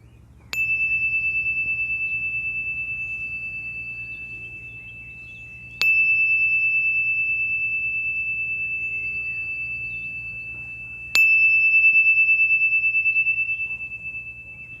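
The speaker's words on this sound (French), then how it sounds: "je vais faire résonner le petit carillon 3 fois" A small chime is rung three times during a calm yoga session, each strike ringing out clearly and then fading slowly over several seconds before the next one, with no voices.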